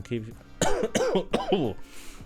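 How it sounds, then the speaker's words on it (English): A few harsh coughs come in quick succession, close and fairly loud, with a bit of voice around them. "Sorry, I got a bit of a cough."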